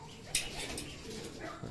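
Pigeons coo softly in the background amid faint outdoor ambience at a pigeon training site, with a brief sharp click near the start.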